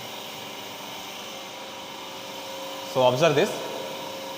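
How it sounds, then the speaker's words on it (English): A hydraulic motor runs once the system pressure reaches 400 psi. It gives a constant droning hum throughout, and someone speaks briefly over it near the end. "once pressure reaches to the 400 psi, then motor will start operating"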